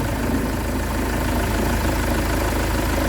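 A van engine idles steadily, a constant low rumble with a faint mechanical chatter, close and unbroken throughout.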